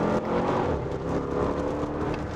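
A Bentley Bentayga V8 SUV driving, its engine a steady, full rumble with a slight rise in revs, heard from inside the cabin with no talk.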